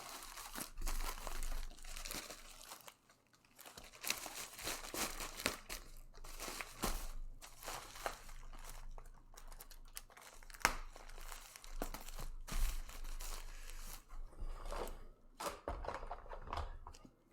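Paper envelopes crinkle and rustle up close while silver is packed, with irregular bursts of crumpling and sliding. Brief quiet gaps break up the handling.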